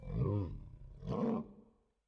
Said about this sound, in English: this is going to be a polar bear sound.